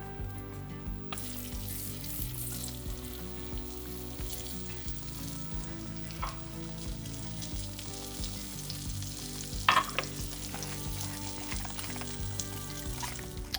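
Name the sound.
celeriac steaks frying in butter and oil on hot plate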